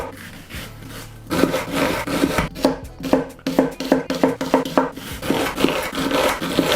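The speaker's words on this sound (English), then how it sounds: "Also using some of the red onion. Again, finely chop this." A knife finely chops red onion on a board, giving a series of close, crisp rhythmic cuts that speed into quick bursts after a quieter opening second.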